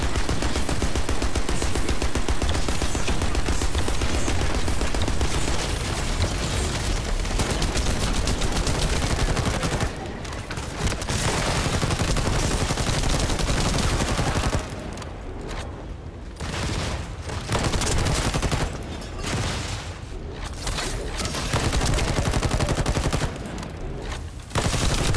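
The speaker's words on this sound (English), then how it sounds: "hearing gunshots that you're firing and gunshots from a distance also sound really, really good" Loud, dense gunfire in the video game The First Descendant, with rapid bursts and booms, nearly continuous, with a few brief lulls.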